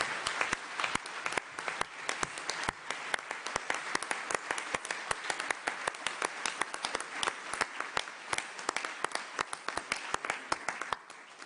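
Delegates at a meeting of states parties to the nuclear weapons prohibition treaty applaud an election, a dense, steady round of clapping filling the hall for over ten seconds.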